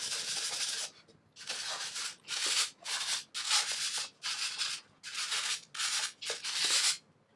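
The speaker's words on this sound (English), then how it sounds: "So this side too, give a little bit sanding to make the edge a little bit more pop up." Hand sanding rasps along the edge of a burnt, shou sugi ban-stained guitar body in about ten rhythmic back-and-forth strokes, each a bright scratchy hiss with brief gaps between them, close and without talk.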